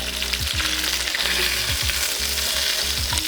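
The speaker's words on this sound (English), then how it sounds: "we're gonna flip these over because the skin's gonna be done crisping" Chicken thighs sizzle hard in a pan, a loud close crackle broken by a few thumps and scrapes as the pieces are flipped. No one talks.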